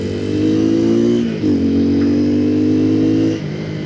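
A CBR 250R or Duke 250 motorcycle engine running steadily, loud and close, with a brief dip in pitch mid-way before settling back to an even drone.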